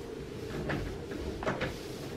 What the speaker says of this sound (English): someone's trying to bang the door down.